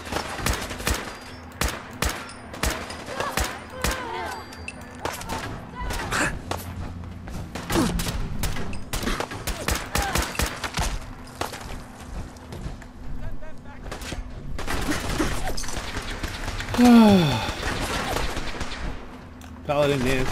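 Gunfire in the video game Fallout 4, a string of sharp shots and bursts scattered through the whole stretch, some close and loud, others lighter, mixed with game sounds while a player talks over it.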